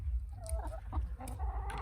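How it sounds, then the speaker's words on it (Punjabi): A Black Australorp rooster on a small Punjab desi poultry farm gives a few faint, scattered clucks close by against low background rumble. "ਇਹ ਆਪਣਾ ਬਲੈਕ ਲੌਪ ਦਾ ਮੁਰਗਾ"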